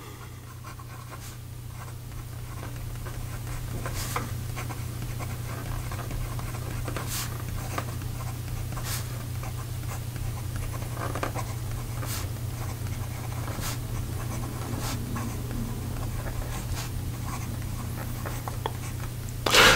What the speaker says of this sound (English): this broad Yovo nib, writes very smoothly, that it lays down a decently thick line